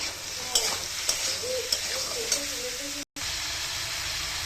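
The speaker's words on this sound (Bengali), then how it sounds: "মশলা দেওয়ার পর ভালো করে একদম নাড়াচাড়া করে কষিয়ে নিলাম" Spices stirred and frying in a pan, a dense close sizzle punctuated by several utensil scrapes and taps, with a very brief dropout near the end.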